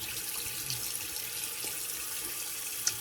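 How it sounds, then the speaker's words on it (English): A hot water faucet running steadily nearby, a constant hiss of flowing water with no talking. "gotta remember to turn the hot water faucet on"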